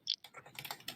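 Quick clicky keystrokes on a computer keyboard, a short burst of several soft, close taps in an irregular rhythm, quiet and alone.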